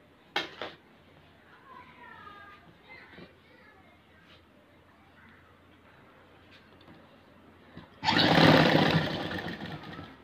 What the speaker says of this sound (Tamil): இந்த ஓரத்தையும் மடித்து நம்ம இப்படி ஒரு தையல் போடுறோம்